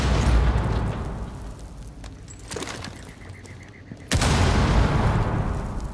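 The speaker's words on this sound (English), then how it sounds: "Frag grenade the wall and create a peek hole." A frag grenade detonates against a wall in Rainbow Six Siege, a sudden loud blast after a quieter stretch of gameplay noise, followed by sustained rumbling debris and firing.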